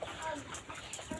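Broiler chickens about 26 days old on a poultry farm give soft, short clucks and chatter, faint and fairly close, in a brief burst.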